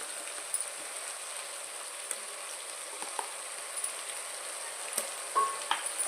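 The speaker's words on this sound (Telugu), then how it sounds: "ఇప్పుడు ఇవి బాగా ఫ్రై చేసుకోవాలి. బాగా ఫ్రై అయిపోయాయండి." Meal maker chunks fry quietly in a pan for biryani, giving a faint, steady sizzle with scattered soft clicks and stirring taps and no talking.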